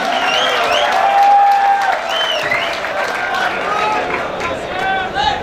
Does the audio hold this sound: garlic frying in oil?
no